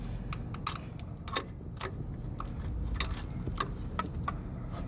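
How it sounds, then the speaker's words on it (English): A 6- or 7-inch ratchet snugging a bolt on a 1997-2003 Ford F250/F350 7.3L engine while the crankshaft position sensor is replaced: close, crisp ratcheting clicks in short irregular bursts against a busy background rumble, with no talking. "going to use my, I guess it's a 6-inch ratchet or 7-inch"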